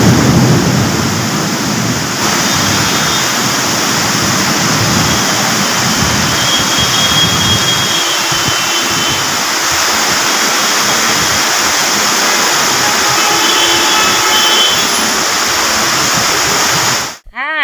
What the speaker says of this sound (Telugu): వాగులు వంకలు పొంగి పొర్లుతున్నాయి చూడుండ్రి